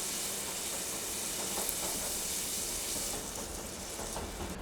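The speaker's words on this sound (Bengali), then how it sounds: "মশলাটাকে মিডিয়াম ফ্লেমে 2-3 মিনিটের জন্য ভালো করে কষিয়ে নেব" Spice paste for mutton curry fries on a medium flame, giving a steady, dense sizzle and hiss close by that stays constant throughout.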